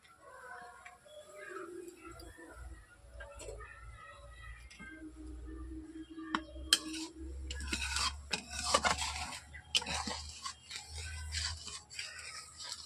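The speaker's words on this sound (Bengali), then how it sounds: "এভাবে আমি নেড়ে নেড়ে দিচ্ছি যাতে দুধটা উঠতে না পড়ে" A carrot milk pudding with cashews and raisins being stirred in a pot, soft scraping and rubbing strokes over a low burner rumble, with faint tonal background sounds early on.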